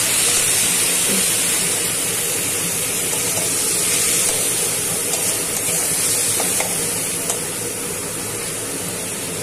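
Spice paste sizzles and hisses loudly in a pan after a little water is added, a steady close-up steamy crackle running throughout with no voices.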